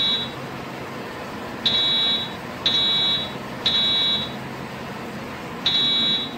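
An Edwards EST 757 fire alarm at a bus platform sounds in repeated bursts, a loud piercing electronic tone cycling on and off roughly once a second, with a faint hum of the building beneath.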